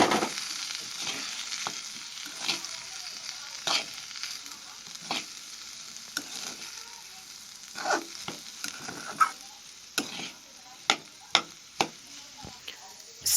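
Spiced samosa stuffing with coriander powder, red chilli and amchur powder sizzles softly in a pan while a spoon stirs and scrapes, giving scattered clicks and taps over a steady fry.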